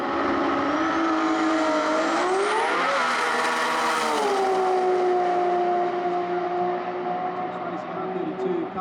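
A Nissan GT-R on a drag strip at an Australian GT-R festival makes a loud, sustained engine roar that climbs in pitch through the gears, with a sweeping rise mid-run and a steady high drone afterward.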